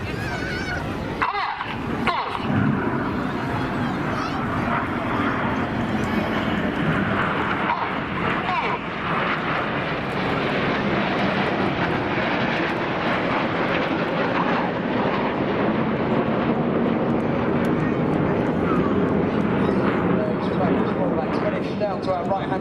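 Red Arrows display jets roar overhead at Blackpool Airshow, a broad, sustained engine rush filling the whole stretch with a loud pass and continuous rumble, while a commentator talks over it.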